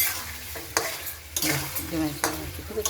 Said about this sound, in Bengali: আরও ভাজা হয়ে সেন্ট উঠবে, তখন জল দেব